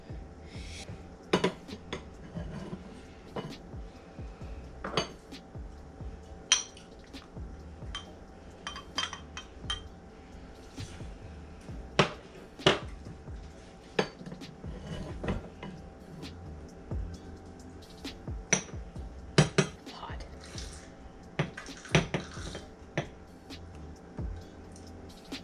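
Tomato soup is ladled into a bowl in a home kitchen, with repeated close clinks and taps of a ladle, cutlery and dishes, some wet slurps, scattered over a quiet steady background.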